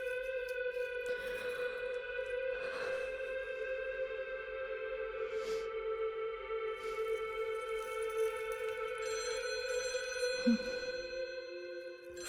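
Indoor telephone ringing in a steady electronic tone, sustained through the passage with faint intermittent background sounds and no speech.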